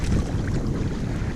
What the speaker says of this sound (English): It's about a 12-13 mile an hour wind